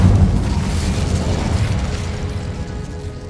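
An Incendio fire spell is cast in a video game: a loud, roaring burst of fiery noise hits at once and holds for about three seconds, tapering only slightly.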